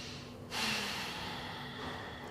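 Slow breathing during a yoga psoas stretch: a soft, steady, airy breath that starts abruptly and continues evenly and close by, with no talk.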